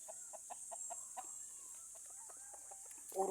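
Chickens cluck in a steady, irregular series of short calls near a rice paddy, fairly close and clear, with a louder burst of noise at the very end.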